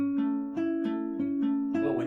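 Fingerstyle acoustic guitar plays a thumb–index–thumb–middle picking pattern twice through, part of a song; clear, close plucked notes ring over a sustained bass in a steady even rhythm, with no talking.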